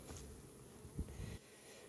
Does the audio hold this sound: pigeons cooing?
no